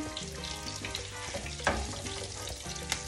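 Breaded fish fillets fry in hot oil, a close, steady sizzle broken by a couple of sharper scraping clatters from a spatula.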